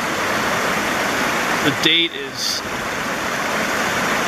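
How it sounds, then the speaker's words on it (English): Orange mine drainage water pours steadily out of the old Big Lick coal-mine drainage tunnel, a constant broadband rush like a stream or small waterfall, close and continuous, with a brief voice speaking over it partway through. "All this orange water coming out."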